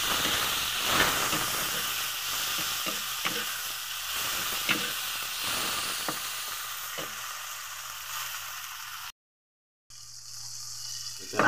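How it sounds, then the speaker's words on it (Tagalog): Garlic, onion and plenty of tomatoes sauté in hot oil, giving a steady close sizzle with occasional scrapes of stirring, then a brief cutout before the hiss resumes. "mainit na yung ating mantika, lalagayin natin yung ating bawang, sibuyas, at saka maraming kamatis."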